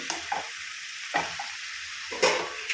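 Sorrel greens and dried prawns get stirred in a frying pan, with three distinct scraping strokes over a low, steady sizzle, close by.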